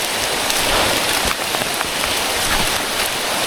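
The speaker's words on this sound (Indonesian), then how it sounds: "Kondisinya hujan dan banyak petir, banyak luduk." Heavy rain pours onto a mountain trail on Gunung Luhur in a steady, dense hiss that stays close and loud throughout, with no voices.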